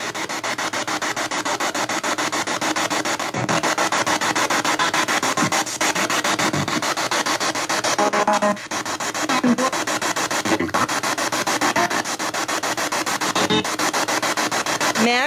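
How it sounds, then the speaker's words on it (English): Spirit box radio sweep during a ghost-hunting session, a loud, continuous rasping static wash with rapid choppy scanning texture and brief bursts, filling the whole stretch with no clear speech. "let's get on with the spirit box. Again, prepare for the noise, because it does get loud."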